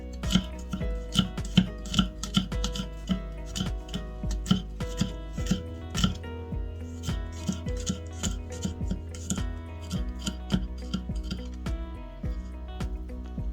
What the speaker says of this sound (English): We're gonna chop up about 5 garlic cloves,